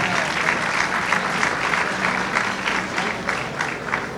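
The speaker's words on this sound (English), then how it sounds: "Please give this man a round of applause." An audience at a gala event claps steadily and fairly loudly for the chairman, a dense sustained wash of applause.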